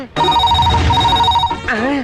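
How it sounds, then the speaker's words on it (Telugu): A telephone rings with a steady electronic trill for over a second, loud and close, then cuts off as a voice begins speaking. "అయ్యో, ఫోన్ మోగేసింది."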